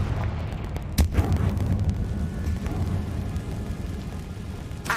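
Confringo fire spell detonating in the Hogwarts Legacy video game, a sharp blast at about one second followed by a low rumbling roar that lingers, with a second smaller burst near the end.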